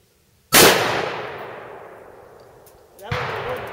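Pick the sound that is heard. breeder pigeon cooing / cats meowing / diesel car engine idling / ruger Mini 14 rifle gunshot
ruger Mini 14 rifle gunshot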